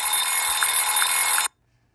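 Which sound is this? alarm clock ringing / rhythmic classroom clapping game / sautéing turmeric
alarm clock ringing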